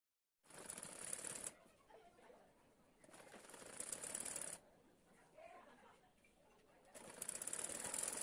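A sewing machine topstitches the seams of a lehenga blouse top in three bursts of rapid stitching separated by quiet pauses, running close and fairly loud.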